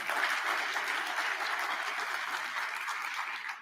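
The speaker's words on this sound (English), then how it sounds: "pause for applause" A TEDx talk audience applauds, a steady wash of clapping from many hands that fades slightly toward the end, with no talking.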